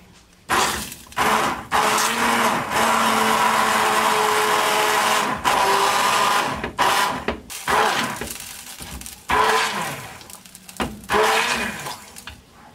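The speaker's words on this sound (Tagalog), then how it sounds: "Then ibe-blender natin siya" A kitchen blender whirs through tomato and two cups of water, a loud sustained motor drone that starts and stops in several bursts, pitch shifting as the contents churn, with brief pauses between runs.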